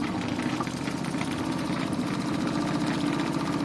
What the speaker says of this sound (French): vous avez entendu les premiers ronronnements de la machine